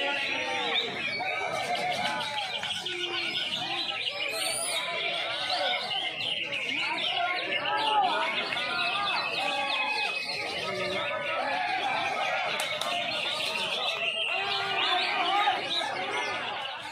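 Dense chirping and chatter of many small caged birds, parakeets among them, at a bustling bird hobby market in Makassar, continuous and lively with crowd noise and voices underneath.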